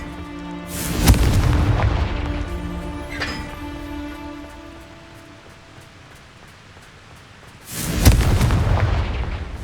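Two loud blasting-spell explosions from the Hogwarts Legacy video game, one near the start and another around eight seconds, each a sharp booming burst with a rumbling tail, with a fainter magical crackle between them.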